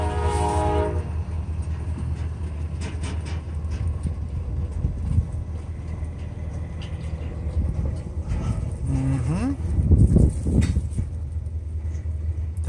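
A westbound CSX autorack freight train rolls slowly across a road crossing, a steady loud rumble of rail cars with a horn sounding briefly near the start.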